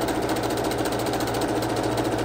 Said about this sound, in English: We're moving right on over to the sewing machine